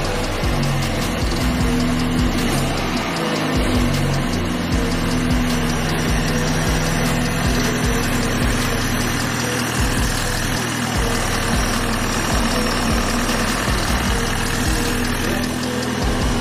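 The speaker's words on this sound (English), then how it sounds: "We just need to connect the battery back up now and start her up." A 2020 BMW G20 320i with its B48 engine runs at a steady idle, a continuous close, even engine drone with a low rumble that holds at the same level throughout, no voices.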